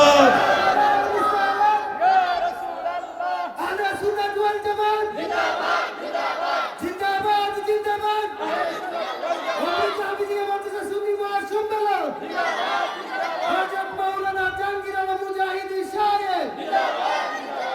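Large crowd at an outdoor Bangladeshi madrasa mahfil shouting responses to takbir and risalat slogan chants, loud massed voices rising and falling in repeated waves over about eighteen seconds.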